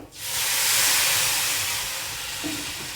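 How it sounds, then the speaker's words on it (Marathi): Hot boiled water being poured into a pan of pavta bean bhaji sets off a loud, close burst of steaming hiss that rises quickly and then holds before slowly easing, with no talking. "आता मी त्याच्यामध्ये पाणी ओतते हे गरम उकळून ठेवलेलं आहे पाणी"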